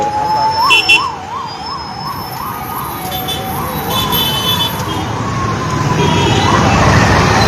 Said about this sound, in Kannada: ಆಂಬ್ಯುಲೆನ್ಸ್ ಈಗ ಬೇರೆ ಕಡೆ ಹೋಗ್ತಾ ಇದ್ದಾರೆ ಅವರು.